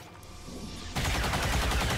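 A burst of gunfire from a shot in XCOM 2: War of the Chosen, heavily modded, breaks loud and dense after a quieter stretch of game ambience and continues as a sustained rattling volley.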